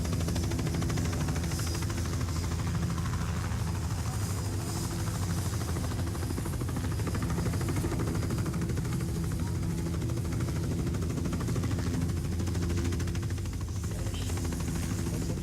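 Steady, continuous rotor drone of a helicopter in the video game Lara Croft: The Angel of Darkness, a dense low thrum holding at even loudness throughout with no talk over it.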